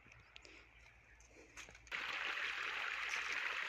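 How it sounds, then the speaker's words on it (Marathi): Irrigation water running into a cotton field on a farm in Maharashtra, a soft trickle that swells into a louder, steady gushing flow partway through, heard close up. "हे इथे पाणी चालू आहे आपल्या कपाशीला सध्या"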